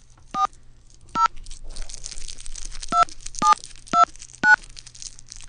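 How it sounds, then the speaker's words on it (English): A local number is punched into a telephone keypad, six distinct dual-tone beeps in an uneven rhythm, close and clear over a faint background hum. "Wait, this is a local number. I don't need to dial all these numbers."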